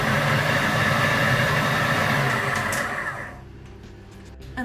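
A kitchen appliance whirring as it mixes chopped cold butter into scone dough, a loud, steady motor drone that abruptly cuts off partway, leaving quiet rustles and a final bump.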